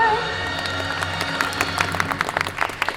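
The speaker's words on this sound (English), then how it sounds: "don't forget the thunderous applause for yours truly" Audience applause at a Disney's Hollywood Studios stage show, a steady wash of many hands clapping at moderate distance with scattered sharper claps and faint cheering over a low musical hum.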